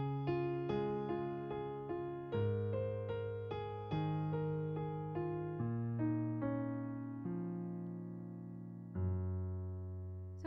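A piano plays a left-hand bass pattern with the right hand added on top, with clear struck notes in a steady rhythm and sustained low bass tones, heard solo and clean.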